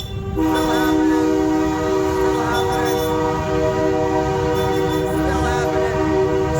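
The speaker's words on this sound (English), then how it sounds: "The train is still going through Penticton, BC." A train horn sounds in sustained, loud harmonic blasts over the steady rumble of a passing train in Penticton, BC, continuous for several seconds.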